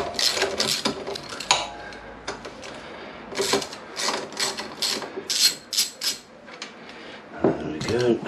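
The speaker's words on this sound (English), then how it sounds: "hopefully I'll be able to get it off with a spanner" A spanner works on the switch assembly of a 1998 Kawasaki ZX9R, giving close, irregular metallic scrapes, clicks and ratcheting taps in short bursts, with some handling noise between them.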